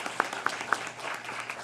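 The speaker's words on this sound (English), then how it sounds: "You can clap for that." Audience clapping at a county commission meeting, a moderate patter of hands with a few sharp nearby claps standing out early before the applause thins, heard at a fair distance in the room.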